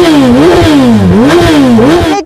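Suzuki Hayabusa motorcycle fitted with low-noise silencers, its engine revved in repeated rising and falling surges, loud and close, with a steady mechanical drone throughout and no talking.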